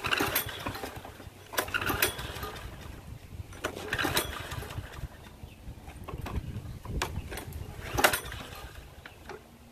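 A Toro Super Recycler lawn mower engine with a fuel leak sputters unevenly as it tries to run, with a low, rough rumble broken by irregular pops and bursts, close by and moderately quiet.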